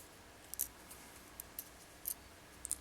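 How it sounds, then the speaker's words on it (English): Scissors snip beading threads in a few small, sharp clicks spaced apart over a quiet background, close and faint. "So we're going to cut off our threads."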